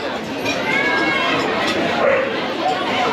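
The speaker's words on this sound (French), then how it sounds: "Le chien." A dog barks and yips in a noisy, echoing space while people chatter loudly over it nearly throughout.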